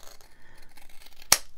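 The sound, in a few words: scissors trimming paper in junk journal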